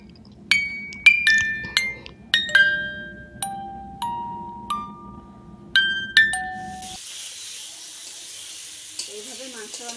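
Cashews, raisins and sugar are stirred in a cooking pot, with about a dozen bright metallic clinks and taps of the spoon against the pot. A soft, steady sizzle takes over near the end.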